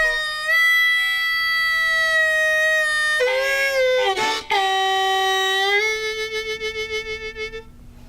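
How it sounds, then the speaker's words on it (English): Harmonica played alone up close, holding a sustained reedy note whose pitch bends from high down to low, followed by a wavering, tremolo-like fade. "If you listen to this, you'll hear a note start high and go low."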